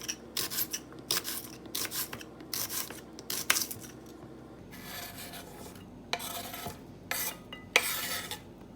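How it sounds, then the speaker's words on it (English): A knife slicing an onion thinly on a cutting board for a cucumber and king prawn salad, heard as quiet, close, rapid rhythmic cuts and scraping taps in short bursts. "Next I'm going to cut the onion."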